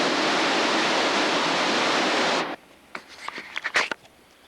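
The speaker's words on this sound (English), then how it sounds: "and all that water running." Water rushing through the gates of an old mill in Lancaster, Pennsylvania, a loud steady roar that stops abruptly midway, leaving quieter scattered knocks and small sounds.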